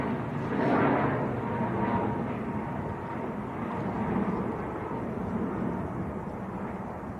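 A Ryanair jet airliner departs Manchester Airport for Shannon, a sustained broad engine roar swelling and easing slightly, mixed with gusty wind rumble on the microphone.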